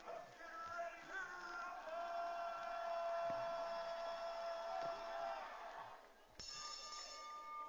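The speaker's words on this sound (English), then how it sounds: "All right, there's the bell." A bell rings at a BMX race track, a sustained bright ringing that carries for several seconds over a steady outdoor crowd murmur, then cuts to a shorter, sharper tone near the end.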